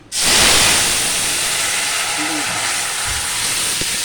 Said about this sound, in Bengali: এই ফোড়ন দিয়ে দিলাম।